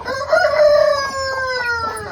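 A rooster crows once near a cabin where chickens are kept, a loud close cock-a-doodle-doo with a rising then falling drawn-out call, heard alone with no talk.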